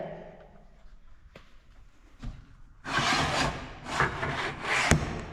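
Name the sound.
engraving a wooden sign piece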